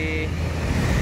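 Vehicles including buses and cargo trucks pass along a road on the route toward Medan, producing a continuous, loud roadway rumble with a brief tonal horn toot at the start.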